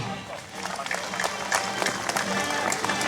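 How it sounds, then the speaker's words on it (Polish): An audience at a knights' tournament at Golub Castle claps warmly, a dense patter of applause from a crowd, mixed with a nearby announcer's voice. "Gorące brawa pod dowództwem Joanny Borysiuk"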